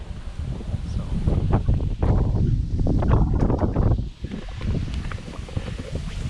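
Wind gusts through the woods at a Wisconsin deer-season opener, loud buffeting rushes hitting the microphone in waves, dropping briefly before picking up again.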